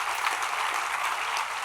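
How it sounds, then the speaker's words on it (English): An audience claps steadily through a talk-show interview, a dense, even wash of applause of moderate loudness with no voices over it. "Huge round of applause."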